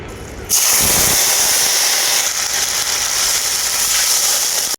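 Ground paste of ginger, dried chilli, cumin and coriander drops into hot oil with black cumin seeds, bursting into a loud, sudden sizzle that settles into a continuous hiss. The sound is close and unaccompanied by talk.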